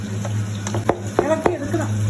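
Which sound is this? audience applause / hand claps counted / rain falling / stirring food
stirring food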